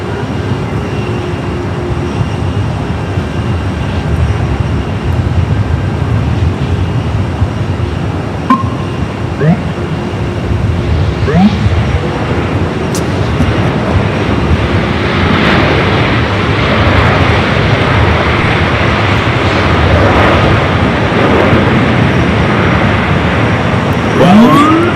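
Cargo jet landing on runway 24 right at Los Angeles International Airport, a continuous loud roar of engine noise that swells gradually toward the end, with faint talk underneath.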